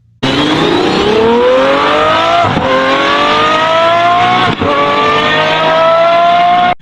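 An Aston Martin Valkyrie LMP2 road car with over 1,100 horsepower revs loud and close, its engine climbing steadily in pitch, with two brief dips between pulls and no talking.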